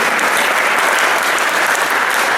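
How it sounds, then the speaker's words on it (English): A room full of people claps steadily for the student participants at a school debate competition, a dense, loud and even wash of applause with no voices over it. "Please give a big round of applause to all the students who participated."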